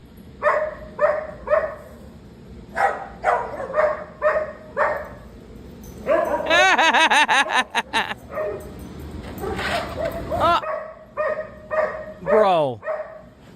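A dog barks repeatedly, sharp evenly spaced yaps that turn into a dense, frantic stretch of barking and whining midway, with a person talking through it.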